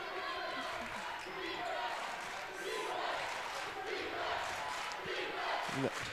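Home crowd at a varsity boys' basketball game against Girard erupts after a put-back basket, a sustained roar of cheering and yelling in the gym, with a ball bounce near the end.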